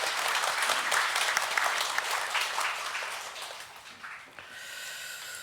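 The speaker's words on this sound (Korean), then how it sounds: "박수 올려드리겠습니다" A congregation claps during a Sunday morning church service, with a full burst of applause that is strong at first and then slowly fades toward the end.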